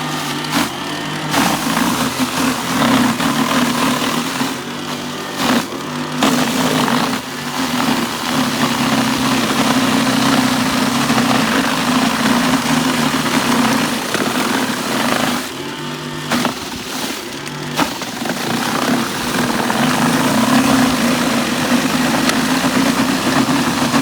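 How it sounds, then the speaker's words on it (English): Battery-powered Milwaukee M18 Snow Joe power shovel clearing slushy snow, a steady loud motor drone with scraping and crunching, broken by a few brief pauses where it stops. "this power shovel is great, and being able to use my Milwaukee batteries means that's just one less battery line to carry"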